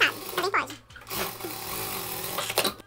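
A sewing machine closes the side seam of a jumpsuit with a jabot, right sides together, its whirring stitching running under steady talking.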